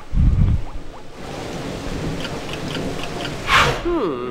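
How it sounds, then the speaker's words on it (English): Rain and thunder from the video game Battle Block Theater: a steady hiss of rainfall with a low rumble of thunder near the start and a brighter crackling burst later, with a voice briefly in the background. "Came in here to take shelter from the rain."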